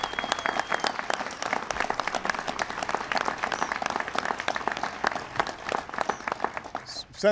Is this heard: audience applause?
yes